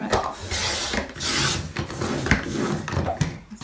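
Paper being trimmed along the edge of a handmade booklet, giving a close, continuous rasping scrape with short bursts of friction that repeat unevenly over several seconds, with no talking.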